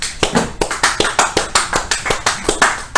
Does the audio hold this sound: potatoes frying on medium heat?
no